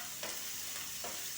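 Chopped green chillies, ginger and garlic fry in hot tempering oil, a close, steady crackling hiss with two brief bursts as the pan is stirred.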